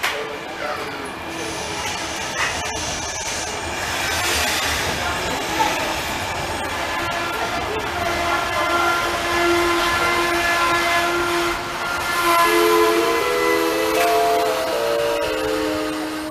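A České dráhy passenger train rumbles steadily through Mělník station in Czechia, with a sustained horn-like tone and metallic rail noise while a voice talks over it.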